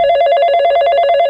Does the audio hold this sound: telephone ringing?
yes